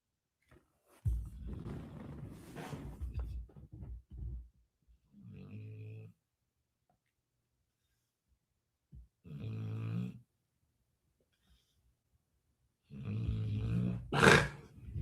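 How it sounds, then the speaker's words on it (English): A man passed out on a couch snores in a few long, rough, rumbling breaths separated by silent gaps, fairly close and moderately loud. "Can you guys hear him snoring?"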